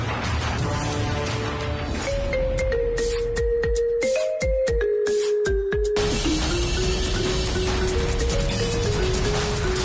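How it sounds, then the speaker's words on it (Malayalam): A phone ringtone for an incoming call in a Malayalam TV serial scene plays as a steady electronic melody that steps between tones, loud and continuous for the whole stretch, with no voices. "അച്ഛനെന്തിനാ ഇപ്പൊ ഫോൺ ചെയ്യുന്നത്?"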